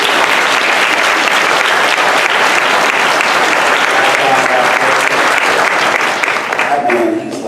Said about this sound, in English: a round of applause for our creators